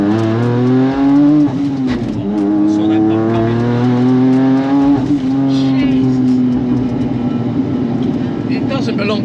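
An 1100bhp Nissan Navara with an R35 GTR engine accelerates hard, its loud engine note rising steadily through the gears. People talk over it throughout.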